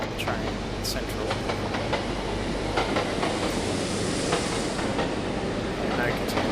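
Steady, continuous rumble of a train running in a video game set at Central station, with a dense broadband roar and occasional rail clicks throughout, heard alone.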